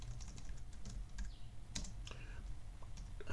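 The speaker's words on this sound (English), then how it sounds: "What I'm going to do here is I'm going to type in date time," Rapid typing on a computer keyboard while entering C# code, a close, steady patter of key clicks with no talking.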